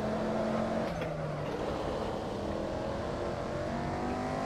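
A race car engine in Assetto Corsa holds a steady, loud drone with gear-like pitch sweeps rising and falling as it accelerates, continuous throughout with no talk.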